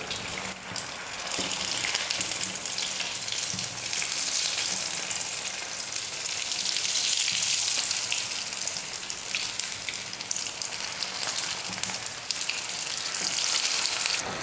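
Potato and wheat-flour roll snacks fry in oil over moderate heat, a dense, even crackling sizzle like light rain that stays loud and unbroken for the whole stretch, with no voices.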